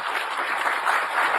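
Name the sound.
loud applause for Joe Biden's speech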